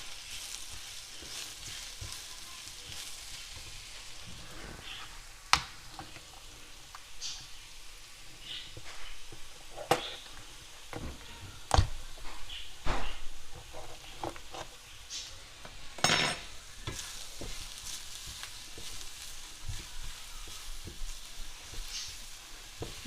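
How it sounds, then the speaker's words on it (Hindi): Sliced mushrooms sautéing in a pan give a steady, fairly quiet sizzle with scattered sharp clicks and scrapes from stirring throughout, with no talking. "तो ये मैंने 5 से 6 मशरूम जो है वो काटे हैं, वो हम इसके अंदर डाल के इसको थोड़ा सा सॉटे कर लेंगे"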